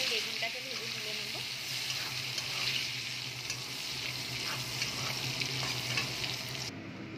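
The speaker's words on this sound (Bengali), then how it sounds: "প্রথমে আমি বেগুনটাকে ভেজে তুলে নেব।" Eggplant slices frying in hot oil in a wok, a continuous dense sizzle with occasional stirring scrapes, close and steady throughout.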